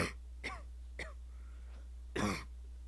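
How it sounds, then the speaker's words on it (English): Several short, faint throat-clearing coughs in quick succession, followed by a slightly louder harsh cough, all heard alone over a quiet low hum. "reacting to coughing sound effect, copyright free"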